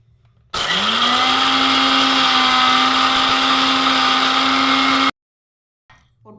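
A mixer grinder whirs roasted chickpeas with water into a paste. There is a quiet start, then a loud, steady high-pitched motor whine for about four and a half seconds that cuts off abruptly, followed by faint rustling.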